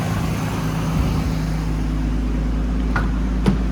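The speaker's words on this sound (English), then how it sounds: "Engine sounds fine." An automatic turbo Nissan Skyline R34 coupe, started after sitting for about three days, idles with a steady low rumble, joined near the end by a couple of brief sharp clicks.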